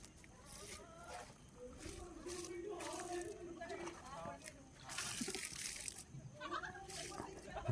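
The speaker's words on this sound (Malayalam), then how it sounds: "അതിലൊക്കെ കുറച്ച് കുറച്ച് വെള്ളം ഒഴിച്ച് കൊടുക്കുക" Water is poured onto newly planted plants, making soft splashing and trickling sounds close by while a person talks over it.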